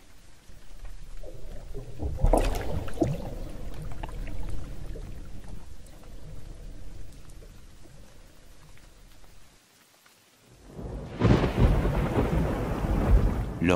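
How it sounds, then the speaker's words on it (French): Rolling thunder crashes loudly amid steady rain, fades to a brief lull, then another heavy roar of thunder and downpour builds up. "L'orage va bientôt éclater."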